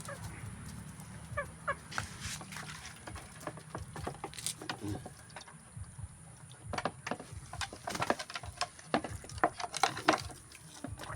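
Chickens cluck and squawk in short, irregular bursts, several birds close by with a steady background hum throughout.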